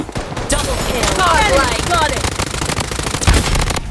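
Rapid bursts of MP5 submachine gun fire in the shooter game Blood Strike, loud and close, with in-game action sounds and speech-like noise mixed throughout.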